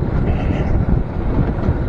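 Heavy wind buffets the microphone while riding a new Honda Supra GTR 150 motorcycle, a constant low roar rising and falling slightly, with no speech.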